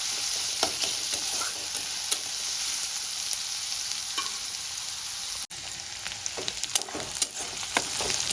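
Onions frying in a pan until reddish brown give a dense, steady sizzle with crackling pops and light stirring scrapes, briefly dipping before carrying on.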